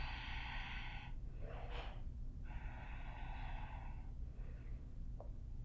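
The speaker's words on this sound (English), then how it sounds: "And then we breathe." Slow, audible breaths drawn in and let out during a yoga pose, with two long exhalations in a steady rhythm, close and fairly soft over a constant low background hum.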